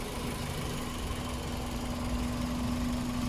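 A 2006 Toyota Vios 1.5 E with a VVT-i engine idles steadily, giving a continuous, even hum with a faint tonal drone and no change in revs over a few seconds.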